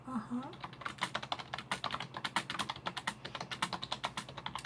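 Rapid, soft clicking of computer keyboard typing in a quiet room, steady bursts of keystrokes close up.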